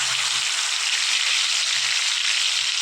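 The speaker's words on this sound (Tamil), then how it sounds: "அடுப்பில் சட்டியை வைங்க. சட்டியை வச்சுட்டு எண்ணெயை ஊற்றுங்க." Oil sizzles in a pan for egg masala, a steady close bright hiss of frying with faint low clinks underneath.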